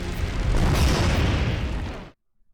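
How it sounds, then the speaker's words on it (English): A fire explosion in the video game Root Double erupts as a loud, sustained roaring blast that rumbles for about two seconds, then cuts off abruptly into silence. "fresh air rapidly pulls into the room and then, kaboom! It starts burning again like an explosion."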